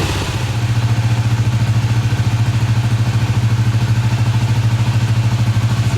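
A dirt bike engine idles steadily and close by while its idle air screw is adjusted, a continuous low rumble with a faint clattery texture and no talk over it.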